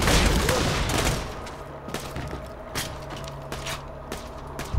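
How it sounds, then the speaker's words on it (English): Rapid automatic pistol fire in the video game Borderlands 2, a dense burst of shots at the start followed by scattered single gunshots and game effects through the rest. "Just realized my pistol is automatic."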